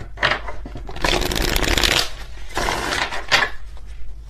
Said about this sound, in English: Let's do one more shuffle just in case.